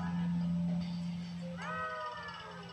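A cat meows indoors at night, one drawn-out meow rising and falling near the end, over a low steady hum of background noise.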